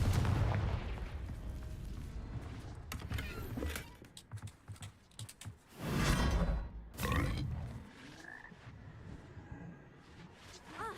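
Explosive bursts from the Confringo fire spell in the Hogwarts Legacy video game: a rumbling roar at first, then sharp booming blasts around the middle, one after another, settling into quieter game ambience.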